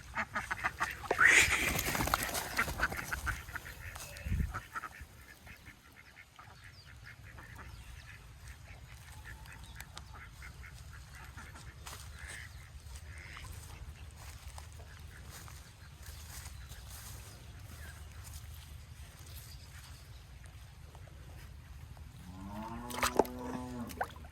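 Ducks quack in an open village field, with short, loud bursts near the start and again at the end over a steady low outdoor hum.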